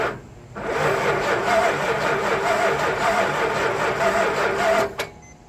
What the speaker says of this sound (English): So watch the amp pull on this starter